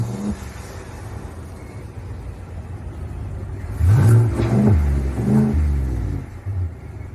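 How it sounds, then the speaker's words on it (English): A 2025 Chevrolet Tahoe RST V8 rumbles at idle, then bursts into a couple of sharp revs that swell and fade back to the low burble, heard close with no talking. "the classic V8 that we love. And if you want to hear how that engine sounds,"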